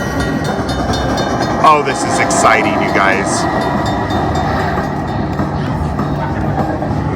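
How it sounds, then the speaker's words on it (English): Train-themed bonus sound effect from a Luxury Line Cash Express slot machine in a casino, heard briefly under an excited voice amid steady casino background noise. "We got a train. We at least got a mini. Green? Green train."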